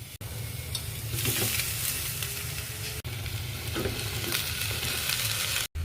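Green chillies, onions and tomatoes for a chicken curry are stirred in a hot pan, with continuous close sizzling and scraping strokes of a spoon, no talking.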